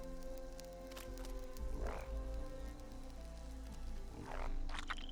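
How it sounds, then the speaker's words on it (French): Two separate croaks from a frog in a French adventure video game sound over a steady, hissing ambient background, with no talking. "Une grenouille."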